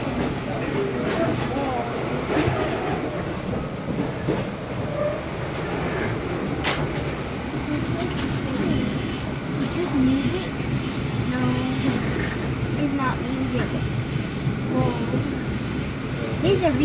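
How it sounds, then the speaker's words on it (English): A real passenger train rolls along in Singapore, a steady rumbling rail noise with faint rhythmic clatter, heard from on board while people talk over it. "A real sound of a train, a real one."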